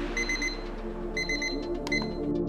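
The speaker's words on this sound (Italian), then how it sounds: "Per i recuperi compro un timer / cronometro magnetico che attacco e stacco comodamente ai pali del rack." A magnetic gym timer stopwatch mounted on the posts of a home gym rack beeps in two quick bursts of short, high, evenly spaced tones, close and clear over a faint background hum.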